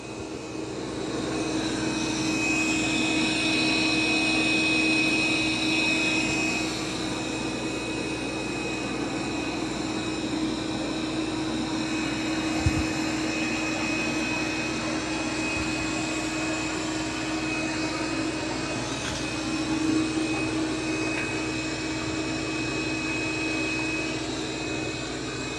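A Dreame D20 Pro Plus robot vacuum runs at maximum suction, giving a steady, close, unbroken whirring drone with a faint high whine that holds for the whole stretch, with no voices.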